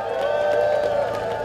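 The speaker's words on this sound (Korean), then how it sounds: "과천 의왕, 같은 경기도시니까 박수 한번 보내주세요." A crowd at an outdoor presidential campaign rally in Namyangju, Gyeonggi Province, applauds and cheers in a steady, dense wash of clapping and voices that holds evenly for the whole stretch.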